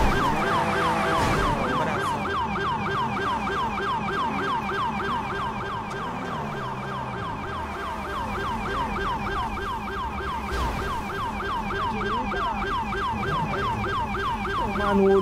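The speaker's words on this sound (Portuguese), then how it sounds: "Nossa, a sirene tá feia" A wailing siren in a roleplay video game cycles rapidly and continuously, loud and steady, with engine rumble beneath it.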